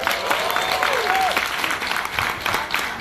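Audience applause at a business presentation, brisk clapping throughout with a brief whistle or squeal early on, fairly loud and close.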